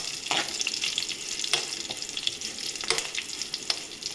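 Three Guntur red chillies fry in hot oil for a leafy vegetable sambar, giving a steady close sizzle with scattered crackles and pops throughout, no voices.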